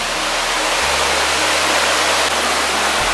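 Whitewater rapids on a river at Greenbrier Campground near Gatlinburg, Tennessee, make a loud, continuous rushing roar of churning water that fills the whole scene without a break, with no voices.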